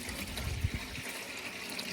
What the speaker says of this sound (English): going to fill this pan down here with some water